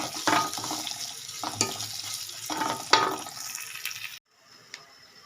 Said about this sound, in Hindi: अब हम इसमें डालेंगे पानी का 1 गिलास।